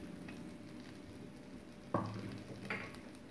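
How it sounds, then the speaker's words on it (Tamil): Chana dal, urad dal, cumin, dried red chillies, garlic and tamarind frying in oil left in a pan give a soft steady sizzle, with two brief stirring scrapes partway through. "இப்போ மீதம் இருக்க அதே எண்ணெயில் கடலைப்பருப்பு சேர்க்குறேன்."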